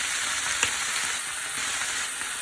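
Carrots, broccoli and yellow peppers stir-frying in a pan give a steady close sizzle throughout, with one brief clink or stir near the start and no talking.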